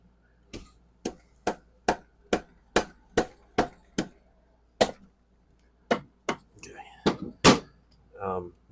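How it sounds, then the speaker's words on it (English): A hammer smacks a stuck piston on an engine being rebuilt in a garage, heard as about a dozen sharp, close, loud metallic blows in a steady rhythm, then a few more irregular hits with brief voices in the background. "I need to smack this a couple times real quick."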